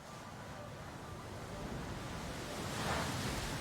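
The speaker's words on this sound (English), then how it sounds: "This time going with a Muddy Water." Muddy Water attack effect from a Pokémon video game battle, a steady rushing, surf-like wash of broadband noise that builds slightly toward the end and holds for several seconds with no talk.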